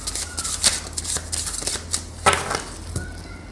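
Tarot deck being cut and shuffled by hand, with soft papery riffles and slaps of cards coming in irregular bursts, close and moderately quiet, with no talk.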